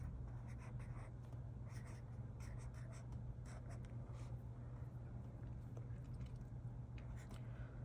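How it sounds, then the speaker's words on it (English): A pen writing in a Hobonichi Cousin journal, making faint, soft scratching strokes in short bursts over a low steady background hum, with no talking. "So I'm gonna write Super Bowl"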